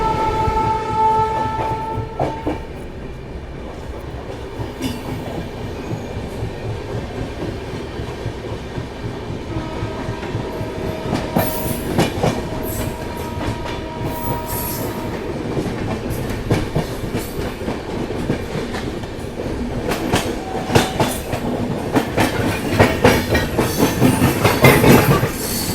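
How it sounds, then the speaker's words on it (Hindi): Kifayat Express passenger train running between Azamgarh and Delhi, steady rumble and rhythmic clickety-clack of wheels on rails heard from on board, with a horn sounding, continuing throughout and building slightly toward the end. "आजमगढ़ दिल्ली के बीच में चलने वाली किफ़ायत एक्सप्रेस"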